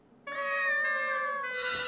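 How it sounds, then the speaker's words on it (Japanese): A cat in an anime meows once, a clear, sustained, close tonal cry lasting over a second that ends in a brief noisy burst, with no talking. "ここに猫がいる。"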